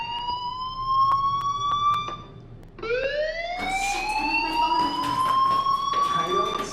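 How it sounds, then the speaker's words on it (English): A fire alarm in the Life is Strange video game wails with a steady, rising electronic tone that pauses briefly and then resumes, loud and continuous over a low background hum. "do you hear that fire alarm?"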